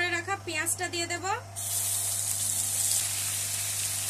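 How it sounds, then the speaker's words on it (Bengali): Grated onion dropped into hot oil with bay leaf, cardamom, cloves and cinnamon for Bengali shrimp malaikari, giving a sudden loud, steady sizzle that runs on after a brief voice at the start. "এবারে গ্রেট করে রাখা পেঁয়াজটা দিয়ে দেব"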